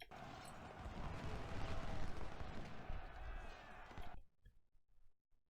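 Massed Civil War musket volleys and artillery fire at Chancellorsville in the video game Ultimate General, a dense rolling crackle of distant battle that abruptly drops to a few scattered faint shots near the end.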